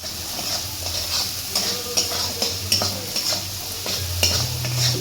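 Ground mustard paste masala sizzles and fries steadily in a pan over a full gas flame, with a continuous crackle broken by frequent scraping stirs and light clinks of a utensil against the pan.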